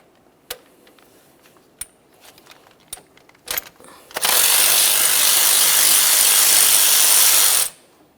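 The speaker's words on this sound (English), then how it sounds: "Use a 12mm to remove this mounting bolt." A 12mm wrench works on the tensioner mounting bolt of a 2012-2015 Honda Civic 1.8L I4: scattered metallic clicks and taps come first, then a loud, steady mechanical whirring runs for about three seconds and cuts off.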